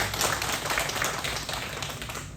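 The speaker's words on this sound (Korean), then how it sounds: "박수로 환영하겠습니다." Church congregation clapping together to welcome guests during a Sunday worship service, a steady, fairly loud wash of hand claps filling the room with no talking over it.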